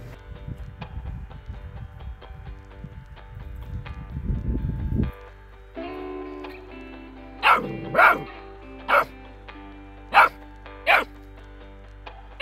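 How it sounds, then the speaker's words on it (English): A puppy barks in a series of short, sharp yaps spaced about a second apart, close and loud, following a stretch of scraping and rustling from work on a homestead chicken coop build. "Don't bark at Dexter."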